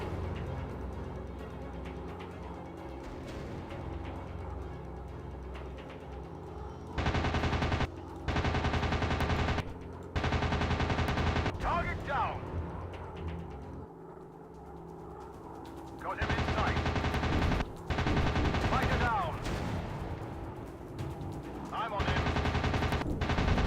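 Aircraft machine guns fire in long, loud bursts during a World War II dogfight in the PS2-era flight game Warplanes: WW2 Dogfight, several sustained volleys separated by short gaps over steady engine drone.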